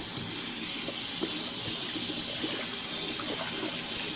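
A makeup sponge is rinsed under a steady stream of running tap water, a continuous close hiss and splash with faint squeezing sounds throughout.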